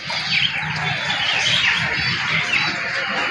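Birds chirp and coo continuously at close range, a busy, overlapping chorus of pigeon calls filling the short stretch.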